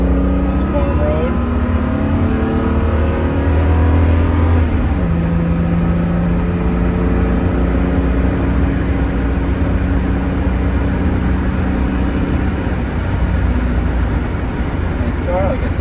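A 1970 Mercedes-Benz 280SL roadster driven fast on a farm road, its engine loud and close as it revs up through rising tones, shifts, then holds a steady droning pitch with road and wind rumble underneath.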